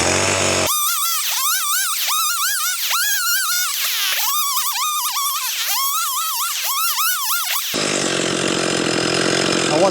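A chainsaw cuts a fallen tree trunk into firewood, its engine snarling loud and close with rhythmic rising and falling bursts as it bites, then dropping to a rough idle near the end.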